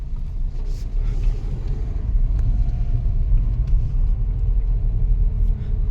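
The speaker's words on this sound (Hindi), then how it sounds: "तो हमने यहाँ से गाड़ी घुमा ली है" Car turning around on rural farmland, a steady low engine rumble with road noise throughout, fairly close and continuous, no talking.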